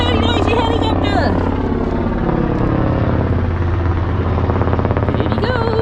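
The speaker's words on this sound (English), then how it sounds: "that's a very noisy helicopter" A very noisy helicopter passes overhead near a brick-strewn beach, its steady thudding rotor roar loud and continuous throughout, with someone talking underneath.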